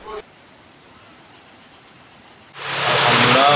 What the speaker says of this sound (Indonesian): Alhamdulillah hujan sudah turun